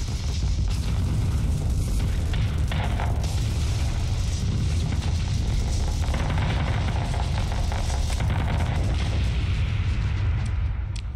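Missiles exploding in the space combat game Starsector: a dense, continuous barrage of deep booming blasts and bursts, loud and sustained throughout with no pauses.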